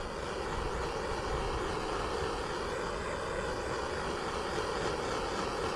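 A heat gun blows hot air over adhesive heat shrink tubing on a wire lug during an RV wiring repair, giving a steady, close, loud roaring hiss that holds constant with no talking over it.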